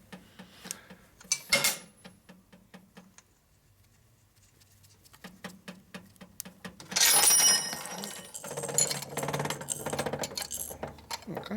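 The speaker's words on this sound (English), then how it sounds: "That was a deburring tool making that noise." A deburring tool clattering and rattling in a workshop where a 1992 Harley FXR Evolution 88ci motor is being assembled, heard as scattered metallic ticks and clinks with a louder jangling burst partway through, alongside other shop noise.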